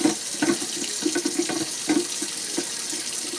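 Cold tap water runs into a container, a steady rushing stream with irregular splashes and plops throughout, close and moderately loud with no talking.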